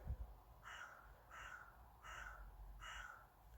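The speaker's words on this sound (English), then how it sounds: "did you hear the crow?" A crow caws four times at an even, unhurried pace, sounding faint and distant over a low background rumble.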